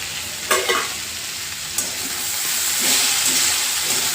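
Tender green beans (ghevda) steam-cook in a covered pan, giving a continuous soft sizzle and hiss with a couple of sharp clinks and scrapes early on, heard up close with no talking.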